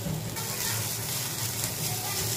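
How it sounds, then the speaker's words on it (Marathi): Chopped onion frying in a pan makes a continuous dense sizzle close up, steady and fairly loud, with no talking. "त्यातलाच अर्धा कांदा मी थोडासा असा फ्राय करून घेते."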